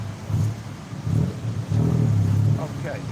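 A tuk-tuk engine buzzes and revs in surges on a Bangkok street, close and moderately loud, with people talking over it.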